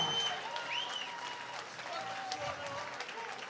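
Crowd applause for the winner of a UKFC MMA fight after a third-round guillotine choke submission, a steady wash of clapping with whistles and cheers filling the hall throughout.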